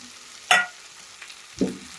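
A farali dish with crushed peanuts and chopped coriander is stirred in a pan: two short scraping strokes each bring a quick burst of sizzle, with a faint tick between them and a quiet hiss underneath.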